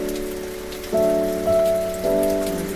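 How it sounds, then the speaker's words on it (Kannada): Steady spring rain falls with gusting wind in Israel, a constant wash of noise layered with a low, droning tonal hum that swells in a few steps. "ಮಳೆ ಗಾಳಿ ಇಸ್ರಾಯೇಲಲ್ಲಿ"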